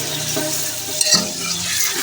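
Mutton karahi with ginger-garlic paste sizzles in an iron wok while being stirred, a steady close frying hiss broken by a scraping stir near the middle, with no talk.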